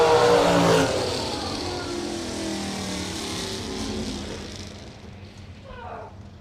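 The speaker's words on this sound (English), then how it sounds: "Marlowe, that is a legal NHRA super stocker. He said he put an alcohol carburetor on it." An NHRA super stock drag race car fitted with an alcohol carburetor, its engine roaring loudly at launch and then fading into the distance as it pulls away down the strip.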